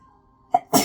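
A single sharp sneeze bursts out after a brief faint hum, preceded by a short intake-like puff, close and loud.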